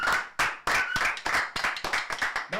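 Studio audience clapping in a burst of distinct, fairly close hand claps, loud and uneven, welcoming guests on a live Argentine cumbia radio-stream show.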